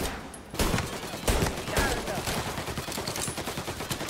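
Rapid bursts of gunfire ring out in a shootout in the video game Mafia: Definitive Edition, with sharp shots and a fast rattling volley running steadily through the whole stretch.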